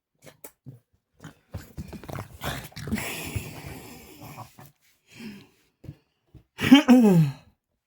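A puppy sniffing, snuffling and huffing in short bursts close by, ending in a louder whine or yelp, with a person talking softly between the sounds.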